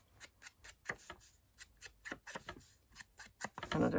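Scissors snipping the ends off a paper piece while making handmade cards, a series of quick, close, quiet cuts in an uneven rhythm, with a louder rustle at the end.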